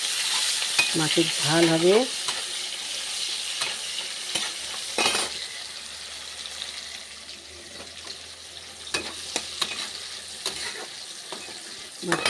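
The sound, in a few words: onions frying in oil in a wok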